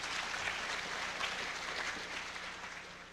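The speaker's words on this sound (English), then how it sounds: "There, now you can applaud." Conference audience at a lockpicking and physical security talk applauds, a steady, broad patter of many hands clapping at a distance that fades slightly toward the end.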